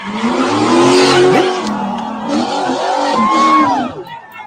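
A car engine revs loudly and rises in pitch, close by, with people talking over it and a brief tire squeal.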